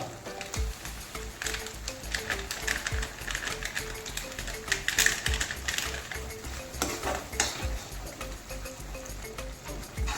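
Spices and gravy masala, including red chili powder, turmeric and onion-garlic masala, being stirred together in a pan, with repeated scraping and clinking strokes over a faint sizzle, close and steady.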